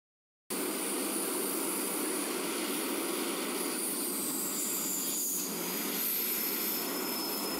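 A MiG-21 jet fighter engine at takeoff with flaps lowered, roaring as a loud, steady broadband rush with a high whine that begins abruptly and holds for several seconds without speech.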